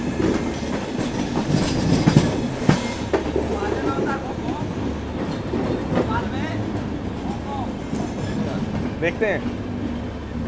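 Jabalpur–Bhopal Jan Shatabdi Express running, a steady rumble of wheels and carriages with clickety-clack and brief squeals throughout, heard from on board while people talk over it.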